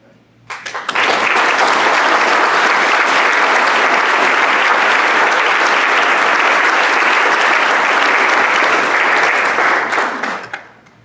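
Sustained applause from a Rotary Club luncheon audience in Cincinnati, steady and dense from start to finish, rising quickly at the start and fading out near the end, with no talking over it.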